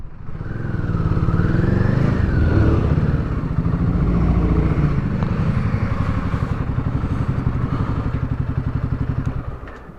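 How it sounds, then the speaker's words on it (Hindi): A motorcycle climbs uphill on a mountain road between Srinagar and Patnitop, its engine laboring in a steady, loud drone with a throbbing pulse as it pulls up the slope. "कहाँ लगा है बाइक को?"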